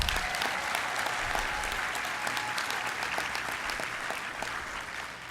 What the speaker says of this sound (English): let's give a big warm applause for Joanne McCall